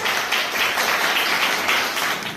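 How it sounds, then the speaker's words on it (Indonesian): A classroom of students applauds during a lesson, producing a steady, dense patter of many hands clapping at once for a couple of seconds. "Tepuk tangan buat semuanya."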